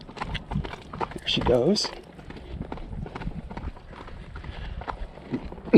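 Hooves of a ridden horse clip-clopping at close range, quickening as the rider urges her faster on a trail where grass is greening, with a person speaking briefly over the steady rhythmic beats.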